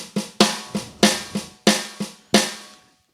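Roland TD-11 electronic drum kit snare struck with the rim engaged, six sharp hits in an uneven pattern, each with a bright crack and quick decay, close and alone with no talking.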